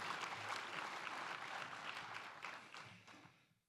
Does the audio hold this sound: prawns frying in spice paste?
no